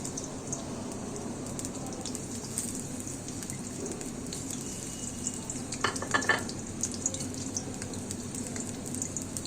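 Chopped onion sizzles in hot oil over a medium flame as a Bengali puti shutki vorta with pui shak is cooked, a steady crackling fry with a few louder spatters and stirring near the end, no voices.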